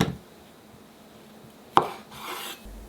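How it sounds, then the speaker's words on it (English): A knife slicing through homemade sausage on a board gives one sharp, close chop followed by a softer scraping cut, heard alone in a quiet kitchen. "Now let's cut the fragrant sausage and see what happens."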